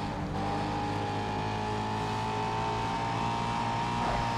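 A race car in the GRID racing game, its engine droning steadily at high revs with a sustained tone and a slight rise near the end, loud and close with no talk.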